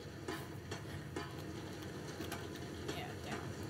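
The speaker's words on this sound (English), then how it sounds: "Gonna break that motor from throwing it around so much" A motor gets hurled around inside the horror game Penumbra: Overture, producing a steady grinding, rattling mechanical din broken by several sharp clanking knocks spread through the clip, loud and close with no talking.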